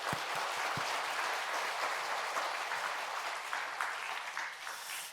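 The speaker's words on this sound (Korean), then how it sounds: "그분들이 한번 박수해 드리겠습니다." Applause fills a church service, a congregation clapping steadily as one dense wash for several seconds, fairly loud and sustained with no voices over it.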